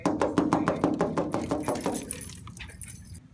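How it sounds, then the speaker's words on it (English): Fingernails tap on glass in a quick run of about a dozen sharp, bright clicks that slow and fade after two seconds, close and alone. "if I take my nails and tap on the glass, they're going to come running"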